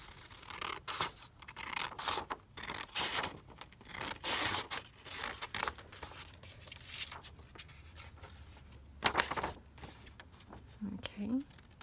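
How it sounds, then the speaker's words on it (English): Scissors cut a page out of a vintage book at a crafting table in a run of close, crisp snips and rustling paper, with a voice speaking quietly at times. "So I'm just going to cut that out."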